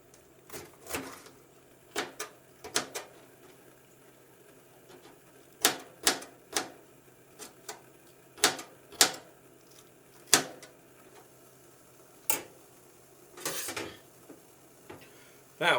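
Sharp, irregular knife taps on a cutting board while chopping bell pepper, scattered singly and in quick pairs over a quiet background.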